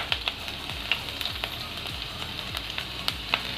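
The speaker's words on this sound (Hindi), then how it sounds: "इसे अच्छे से सौटे करेंगे।" Finely chopped ginger, garlic and green chili sizzling in hot oil, a close steady frying hiss with occasional sharp pops and light stirring scrapes, no talk.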